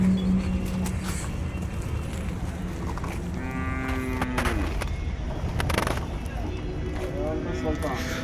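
Cattle at a busy market moo in several long, low calls, some near and some farther off, over steady crowd and engine noise while people talk nearby.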